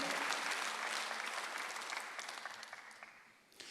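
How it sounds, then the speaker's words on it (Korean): A church congregation applauding during a Sunday worship service, dense sustained clapping that gradually thins and fades toward the end. "박수 한번 하세요."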